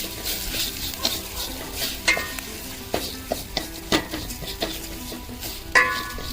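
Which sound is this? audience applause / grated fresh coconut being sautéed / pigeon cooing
grated fresh coconut being sautéed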